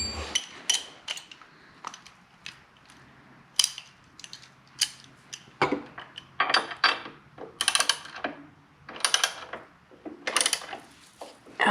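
Bolts being tightened on the highway bars of an Indian Challenger motorcycle, a run of quick close ratcheting clicks and metallic turns in short bursts, with brief gaps between them and no talk.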